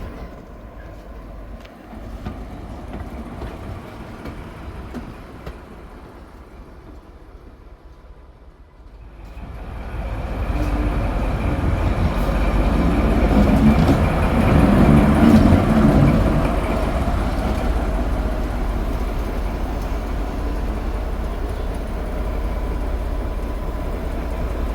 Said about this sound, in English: Our motive power for the brake van experience would be Class 14 D9504